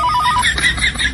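Phone ringing nearby, a short run of rapid electronic ring pulses followed by higher warbling tones.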